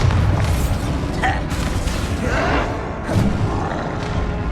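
A Bombarda spell explosion in Hogwarts Legacy combat, heavy booming thuds and crashing bursts piled over a dense, loud roar of battle noise, with a couple of sharper hits standing out.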